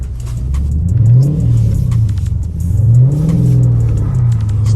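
A Dodge Charger SRT engine revs loudly and continuously while the car spins a 360 on snowy roads in a blizzard, the pitch rising and falling in two clear surges.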